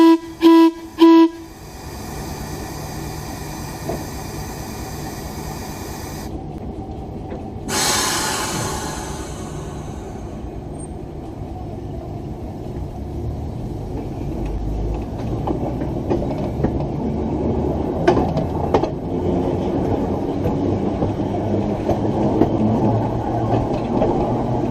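An ORM train heads back to the main yard after a pole switch, opening with a few short loud blasts, then a long, steady rumble of rolling wheels and machinery that slowly grows louder and rougher with occasional clanks.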